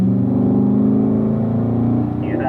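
A Corvette engine pulling under throttle on a track, a loud, steady harmonic drone close by, holding its pitch and dipping slightly near the end.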